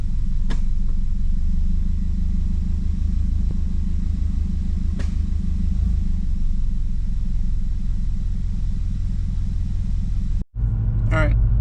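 A Subaru Legacy with a P1710 transmission fault code drives steadily, its engine a deep continuous rumble that holds near and loud throughout, broken by a brief sharp dip near the end as a gear change cuts in.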